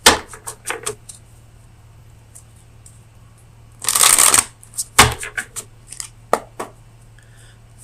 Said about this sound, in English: let me get you an oracle card from the Oracle of Visions